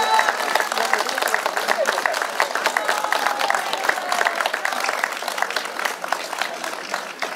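An audience claps steadily at a folk art painting exhibition award ceremony, a dense, sustained round of applause from a moderate-sized crowd that tapers slightly toward the end.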